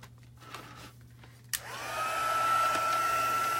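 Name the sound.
embossing heat tool blowing hot air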